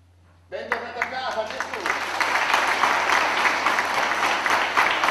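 Applause rises suddenly from an audience at an Easter night service in Davoli Borgo, a dense, sustained clapping that swells and holds steady, with a voice heard faintly near the start.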